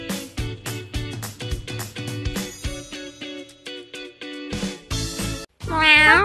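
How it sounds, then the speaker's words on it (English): Cheerful electronic music from a virtual pet cat hair salon game plays loudly, then a bright, drawn-out cartoon cat meow rises at the very end. "Meow."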